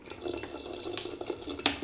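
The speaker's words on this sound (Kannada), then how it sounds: "1 ಲೀಟ್ರ್ ನೀರನ್ನು ಇದಕ್ಕೆ ಸೇರಿಸ್ಕೋಬೇಕು." Water being poured into a ground onion and lemon mixture for horse gram papad, a brief, close splashing trickle with a soft gurgle, quiet and alone.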